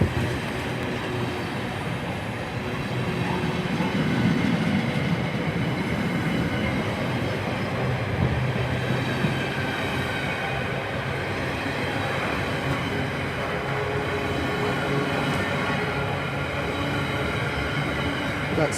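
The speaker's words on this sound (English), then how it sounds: "And actually a lot of flat carriages coming past as well." A freight train hauling many flat carriages rolls past at a station, giving a continuous low rumble and rattle of wheels on track that stays loud and steady throughout.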